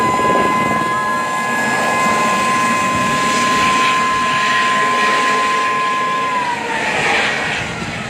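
Helicopter departing Marinduque Airport, a steady loud rotor and turbine drone with a sustained high whine that drops in pitch near the end, continuous and close throughout with no talk.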